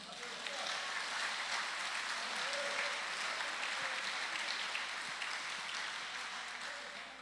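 A large crowd at a church service applauds steadily, a dense wash of clapping that fills the room for several seconds without a break.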